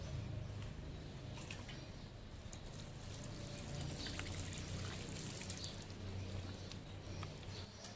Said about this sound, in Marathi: जसं पाणी पडतं विटेवर तसं हे कोकोपीट मोकळं होत जातं